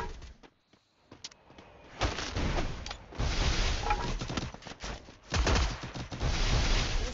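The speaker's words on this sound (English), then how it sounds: "I gotta go put on some more airstrikes." Airstrikes explode in a multiplayer shooter game, a run of heavy rumbling blasts rolling one after another for several seconds after a brief near-silent gap, loud and close with no talk.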